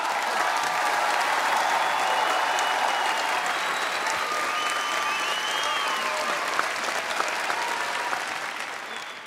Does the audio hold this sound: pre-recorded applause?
yes